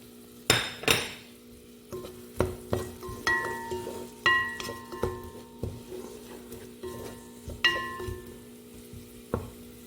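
Green chili and green onion being stir-fried for vegetable rice, a spatula knocking and scraping the pan in a series of distinct strikes over a light sizzle, close and uneven in rhythm.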